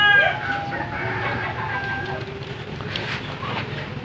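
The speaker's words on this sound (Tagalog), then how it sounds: "Ito naman yung breeder ko na crossbred din sa pigeon at sa nitoy" Crossbred pigeon and netoy breeder birds call close by in a cage, giving loud harmonic cries at first that settle into softer, scattered calls over a low background.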